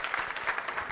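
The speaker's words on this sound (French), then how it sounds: "Clap Jesus for His word." A church congregation claps to praise Jesus, a short burst of quick, scattered handclaps heard from within the room.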